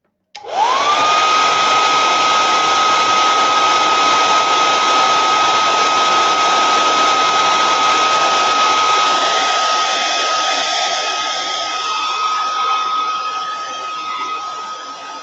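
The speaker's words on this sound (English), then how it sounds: "So I'm just going to take my dryer." A hair dryer switches on to dry paste on a snow globe craft, running steadily with a loud whooshing hum and a high whine, fading slightly toward the end.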